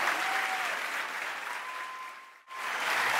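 Dense applause from a worship congregation at a Latin Christian music event, steady and moderately loud, dipping briefly almost to silence before swelling back.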